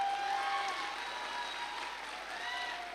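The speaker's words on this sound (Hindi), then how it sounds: "एक जोरदार ताली" An audience at a recognition event applauds in a steady, dense wash of clapping that holds at an even level throughout, with faint voices mixed in.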